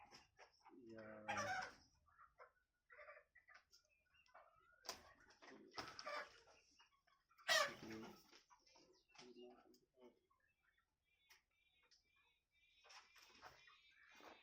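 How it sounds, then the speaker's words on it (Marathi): Backyard poultry chickens cluck and squawk in bursts, with a rooster-like call rising briefly, scattered across the clip under occasional talking voices. "आता या ज्या कोंबड्या आहेत आपल्याकडे या कोणत्या जातीच्या आहेत"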